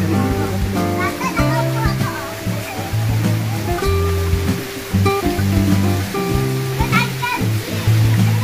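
A waterfall swimming spot pours with a constant rushing of water while people bathe, with children's voices and splashes over the roar and music playing along.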